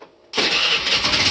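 A Honda Vario automatic scooter fires up on its electric starter after a new battery is fitted, a brief quiet moment followed by the engine catching abruptly and settling into a loud, steady close-up idle.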